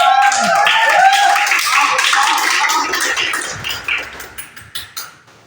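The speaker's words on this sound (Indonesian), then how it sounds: "Kasih tepuk tangan" Classroom of young madrasa pupils clapping together for a classmate, a dense burst of hand claps that thins into a few separate claps by the end, with children's voices mixed in.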